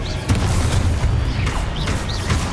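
Magic blasts and booming impacts from casting the Confringo explosion spell in the Hogwarts Legacy video game, with dull repeated thuds over a dense, rumbling game soundscape.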